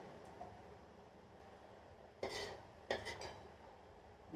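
Metal pots and utensils clink and scrape as cooked curry is lifted out of a pan, two quick clattering knocks standing out over a quiet kitchen background.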